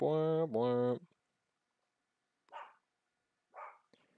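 A pet dog gives two short, distant barks spaced about a second apart, following a loud sustained electronic tone at the start.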